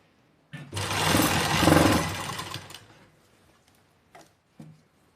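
An electric sewing machine stitches lace onto a dupatta in one steady, close run of about two seconds that fades out, followed by a couple of short clicks.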